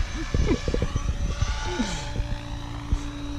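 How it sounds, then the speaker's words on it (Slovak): A SAB Goblin RC helicopter coming in to land, its rotor and motor giving a steady, close whine with shifting pitch while people talk nearby. "lebo najprv musíme uložiť vrtuľník a potom uložíme dron."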